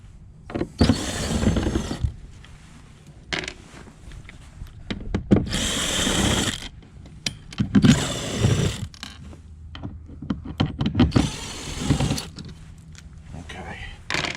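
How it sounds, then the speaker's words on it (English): A power screwdriver or drill whirs in short bursts while taking six screws out of a kayak panel, with clicks and handling noises between the runs and someone talking over them. "we're going to take off these 6 screws"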